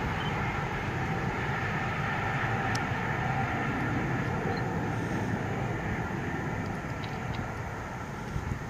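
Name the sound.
HST train with MTU engines passing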